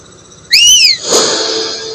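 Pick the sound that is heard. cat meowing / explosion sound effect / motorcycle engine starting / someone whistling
someone whistling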